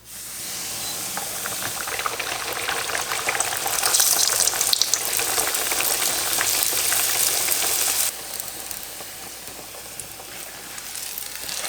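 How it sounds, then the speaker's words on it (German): Kefir lepeshki flatbreads frying in a pan on moderate heat, a continuous close sizzle and crackle of hot oil that swells midway and settles slightly softer toward the end. "Also sie sollen ungefähr 1 Minute von jeder Seite goldbraun anbraten."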